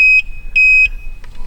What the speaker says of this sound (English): it's beeping because we're dropping the voltage.